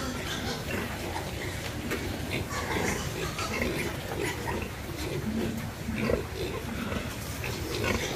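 Pigs grunt steadily on a pig farm, where a sow is about to farrow; the low, rough grunts and snuffles continue close and loud throughout amid barn noise.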